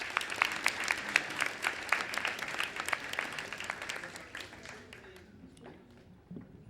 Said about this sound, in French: Alors, applaudissez-les, s'il vous plaît.